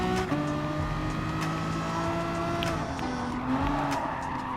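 Renault Megane Trophy race car in Gran Turismo Sport cornering at Big Willow, a steady engine drone with shifting pitch and faint tyre scrub running continuously, close and loud throughout.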